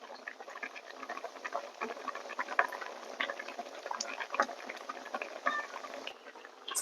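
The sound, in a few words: crab curry with coconut boiling in a pot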